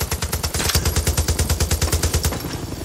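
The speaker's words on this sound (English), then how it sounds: "I'm gonna use this baby on it. This is an anti-aircraft gun right here." An anti-aircraft gun fires in the video game Far Cry 6, a loud, close, rapid sustained burst of heavy repeating shots in steady rhythm with no pauses, alone without talk.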